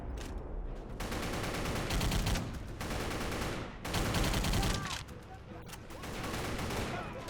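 Rapid video game gunfire mows down lined-up enemies in sustained automatic bursts, loud and dense, broken by brief pauses between volleys, with no talking.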